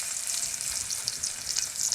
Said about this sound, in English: it's virtually sizzling straight away.